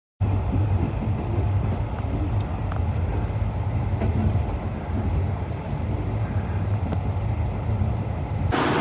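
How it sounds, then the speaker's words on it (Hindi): A train at Rohri railway station in Pakistan gives a steady, loud rumble with a low hum and faint rhythmic clatter, continuous throughout and close by. "इस वक्त हम मौजूद हैं रोड़ी के स्टेशन पे"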